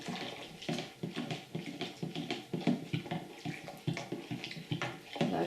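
A spoon stirs coffee into hot water in a cup, making quiet, continuous clinking and sloshing with uneven splashy bursts, faint and close throughout.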